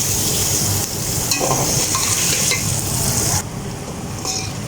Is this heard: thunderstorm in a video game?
no